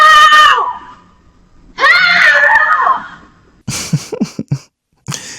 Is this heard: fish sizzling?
no